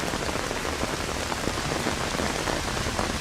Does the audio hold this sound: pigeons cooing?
no